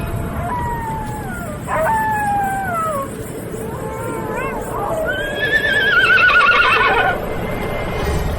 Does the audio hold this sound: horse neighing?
yes